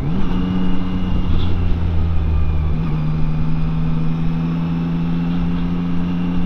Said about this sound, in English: And off we go on the 2021 bike.